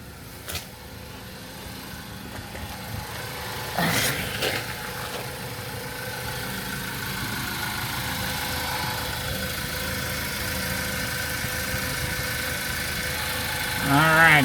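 A car engine idles steadily after an oil change, a constant low mechanical hum with vibration that runs throughout and swells slightly near the end, with a few brief clatters and some talk over it.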